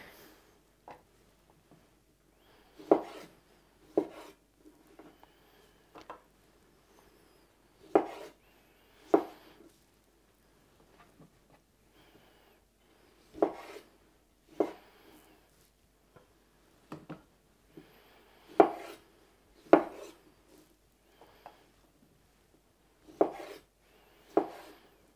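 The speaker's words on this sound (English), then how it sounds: "So I have some of these cherry tomatoes left over. I'll just quarter them." A knife cuts leftover cherry tomatoes into quarters on a board, sharp chopping taps arriving in loose bursts and pauses, close and fairly crisp with no talking.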